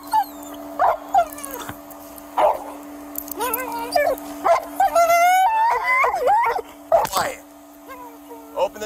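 A police dog outside a police department barks and whimpers in a series of sharp yips and whines, close and loud, mixed with a voice giving commands.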